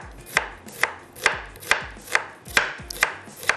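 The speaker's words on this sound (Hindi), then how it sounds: "यहाँ जो प्याज है उसको स्लाइस कर लेते हैं" A knife slices a large onion on a board in brisk, even strokes, about eight crisp cuts at a regular rhythm, close and clear with no talking.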